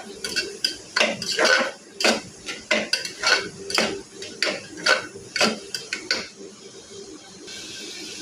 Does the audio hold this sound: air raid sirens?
no